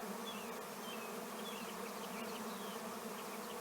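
Robber bees swarm around a beehive, making a dense, continuous buzz with individual insects whining past, steady throughout and with no voices.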